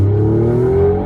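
A 2021 Alfa Romeo Giulia QV with an X-pipe exhaust mod and the factory resonator removed drones steadily up close, a deep tone rising slightly as the car pulls on, with no talk.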